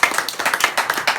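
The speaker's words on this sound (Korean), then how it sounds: "박수 한번 보내주시죠." A crowd of people clapping together for a minister at an alumni fellowship gathering held at a pastor's home, with a steady, dense patter of hands and no speech.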